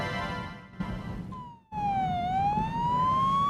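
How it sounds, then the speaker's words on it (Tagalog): An ambulance siren wails nearby, its pitch sweeping down then rising again after a brief break, loud and alone without talk. "Tito Luis, ayun pala yung ambulansya na narinig natin kanina."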